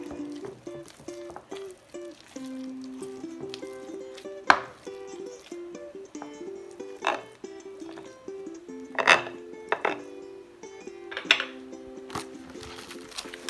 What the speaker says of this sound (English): mix the ingredients well together